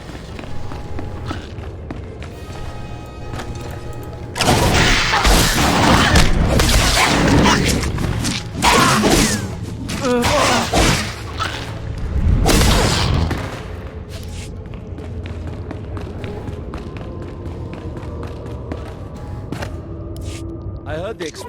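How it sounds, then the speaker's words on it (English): Explosive charges going off in the Star Wars: The Old Republic video game, a few heavy booming blasts with crackling bursts and footsteps, loud and close, alongside talking. "I heard the explosions when you set off the charges."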